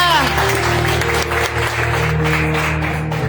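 Congregation applauding during a church service, a steady dense wash of clapping that fills the whole stretch, with sustained tones and a voice running underneath.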